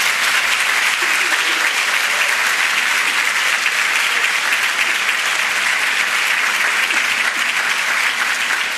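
An audience applauds Bernardo Gómez Pimienta: dense, steady clapping from a large crowd holds at an even, fairly loud level for the full length, with no voices on top.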